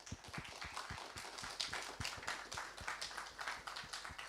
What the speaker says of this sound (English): I think we can applaud them because I'm sure they will see that